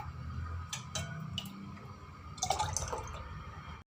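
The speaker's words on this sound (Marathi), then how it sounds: "आता हे ग्लासमध्ये टाकून घेते मी" Spiced masala buttermilk pours into a glass with light splashing and dripping trickles, then a brief burst of fuller pouring near the end, close and fairly quiet, with no talk.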